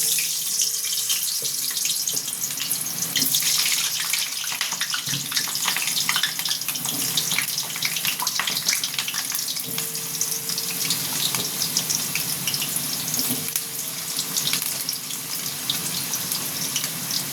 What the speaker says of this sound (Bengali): তেলটা গরম হয়ে গেছে, আমি আলুটা ভেজে নেব।